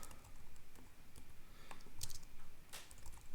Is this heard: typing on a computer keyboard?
yes